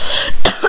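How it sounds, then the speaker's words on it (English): One sharp, close cough, loud and abrupt, with a brief raspy tail. "And then got a bit of a cough."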